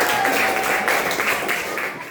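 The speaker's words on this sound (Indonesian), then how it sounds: "Tepuk tangan." An audience applauds at an Islamic religious education session run as a campus outreach event: loud, dense clapping from many hands that fades toward the end, with voices mixed in.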